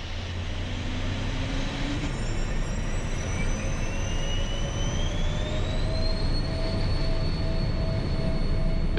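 Twin jet engines of a Phenom 100 spool up for takeoff, a steady loud roar heard from inside the cabin with rising whining tones climbing higher as thrust builds.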